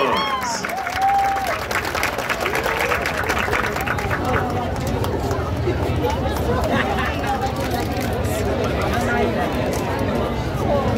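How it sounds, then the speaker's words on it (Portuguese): Crowd applauding a marching band at an outdoor culture festival in Brazil, loud continuous clapping and cheering with chatter and an announcer's voice over a public address system. "Aplausos!"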